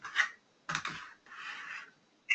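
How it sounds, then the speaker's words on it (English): Typing on a computer keyboard during online precalculus tutoring, heard as a few short, soft bursts of key clatter with pauses between them and no talk. "I guess I can put that in on my keyboard,"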